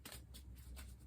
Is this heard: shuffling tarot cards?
yes